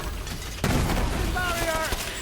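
Gunfire in the video game Borderlands 3, a sudden burst of shots and booms that continues densely under game sounds and faint voice-like tones.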